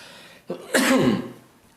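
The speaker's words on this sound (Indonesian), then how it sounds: "Sorry, ini batuknya belum hilang-hilang." A single harsh cough from a person with a lingering cough, close and loud, preceded by a short throat noise, with no talking.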